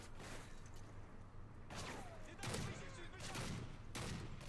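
Bursts of rapid gunfire in Call of Duty Modern Warfare 3 survival mode, several volleys at steady intervals, fairly quiet and mixed with other game sounds.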